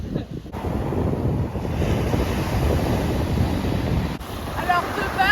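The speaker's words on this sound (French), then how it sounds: "il y a quand même pas mal de vagues" Sea waves wash and churn around a swimmer at a triathlon training spot, heard as a continuous rough roar mixed with heavy wind buffeting on the microphone.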